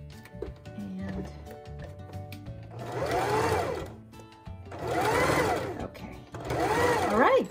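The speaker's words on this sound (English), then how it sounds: "I'm just gonna overlap the stitches a little bit, and I'm gonna back stitch just to reinforce the stitching at the underarm seam." Sewing machine stitching and back-stitching the underarm seam of a sleeve: three loud bursts of fast, whirring mechanical stitching separated by short pauses, close up, with a voice speaking in between.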